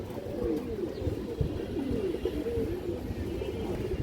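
A black-necked pigeon coos softly and repeatedly at close range, its low, rolling calls overlapping in a steady murmur with faint background rustling.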